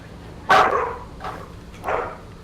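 In the video game Divinity: Original Sin 2, a dog barks twice, a sharp bark followed by a second softer one about a second later, with a faint yip in between.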